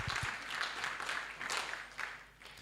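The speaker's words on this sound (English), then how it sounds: "I think the executive director deserves a bigger hand clap." Audience applause for the executive director at a Uganda Bureau of Statistics convention: sustained, moderately loud clapping from a large hall, swelling and easing slightly in waves as it continues.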